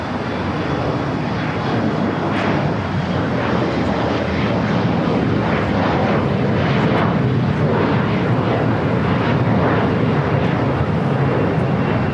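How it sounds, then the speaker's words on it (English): British Airways Boeing 777-300ER jet airliner passing at LAX, a loud, sustained engine roar that builds slightly and stays broad and rumbling for the full span, heard alone without talk. "British Airways is 283, the 777-300ER"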